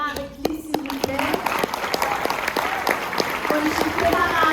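An audience at a Paris film preview applauds to welcome the film's director, clapping steadily in the background while a voice speaks clearly over it.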